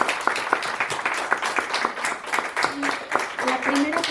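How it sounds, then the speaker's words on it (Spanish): Audience applause for Marco Buenrostro at a public talk, a moderate patter of distinct claps from a modest crowd, fairly close, with a voice speaking over it near the end. "quiero pedir un aplauso"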